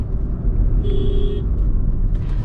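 Engine of a 2022 Honda City hybrid with a CVT gearbox revving past 3500 RPM while driving, a steady droning rumble with a brief higher whine rising over it midway.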